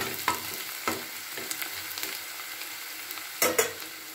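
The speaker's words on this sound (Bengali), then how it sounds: "একটু লাল লাল করে ভেজে নিচ্ছি পেঁয়াজটাকে" Onions frying in a pan, browning to a light reddish colour while being stirred: a steady soft sizzle broken by a handful of sharp scraping stirs, close and fairly quiet, with no talking.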